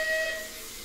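A brief video-game steam locomotive whistle toot from a rebuilt Merchant Navy locomotive in Train Simulator 2020, a clear steady tone over a soft hiss, fading quickly into a low rumbling background.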